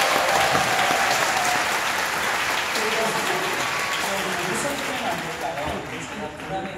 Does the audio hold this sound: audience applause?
yes